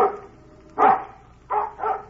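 A dog barks three times in a Western setting: one sharp, loud bark, a pause, then two quicker barks close together, each standing out clearly over quiet background.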